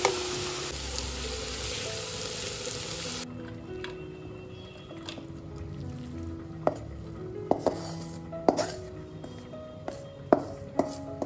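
Meat sizzles and fries in ghee with garam masala in a home kitchen, a steady crackling bed with scattered sharp pops and clinks of utensils, moderately close and with no talking.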